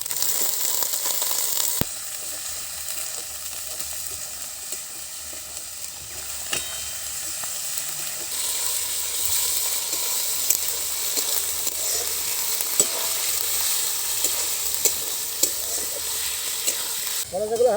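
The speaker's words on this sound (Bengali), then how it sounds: "কলেজগুলো হালকা হালকা ভেজে নিয়েছি" Chicken liver fries in a pan with ginger, garlic and onion, a constant bright sizzle under repeated stirring scrapes, with no speech.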